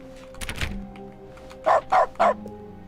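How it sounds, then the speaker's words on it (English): Three short, loud cartoonish dog barks in quick succession, each triggered by clicking on objects in The Stanley Parable: Ultra Deluxe, following a soft thump and clatter of in-game movement. "Oh, everything I click on makes a dog noise?"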